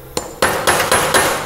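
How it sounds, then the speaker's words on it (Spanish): Hammer striking a centre punch on a rivet in a clutch pressure plate, five sharp metallic taps in a steady rhythm, close and loud, each ringing briefly. "Te vamos a hacer un centropunto exactamente en toda la mitad del remache"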